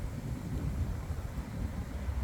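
Outdoor wind buffets a microphone on a breezy day, a steady low rumbling roar with gusty fluctuations that fills the whole stretch, with no voices over it.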